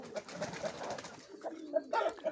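Domestic pigeons in a loft give soft, repeated coos, fairly faint and close, broken by short pauses.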